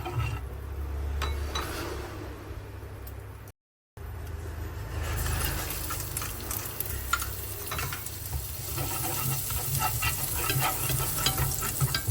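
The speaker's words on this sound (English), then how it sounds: "I'll heat a little cooking oil and saute the shallots until they're nice and fragrant" Shallots sauté in a little hot cooking oil in a home kitchen, a steady soft sizzle with occasional stirring scrapes and faint clinks, broken by a brief silent gap.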